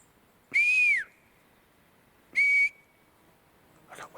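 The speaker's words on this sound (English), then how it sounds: "I got whistles." Two loud, clear whistles blown outdoors near a house at high altitude, each a sustained rising-then-falling tone with a gap of over a second between them, followed by faint rustling.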